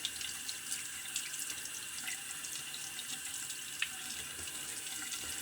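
Tap water runs steadily into a sink to rinse a Williams Pinch to Open double-edge razor, a continuous hiss with faint clinks, fairly quiet and alone.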